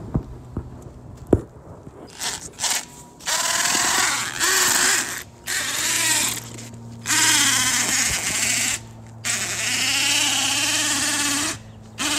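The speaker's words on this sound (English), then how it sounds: "I'm gonna get the drill." A power drill whirs in several long, loud bursts with short pauses between, along with scattered knocks and handling noise, while boring near a sidewalk to bury underground cable.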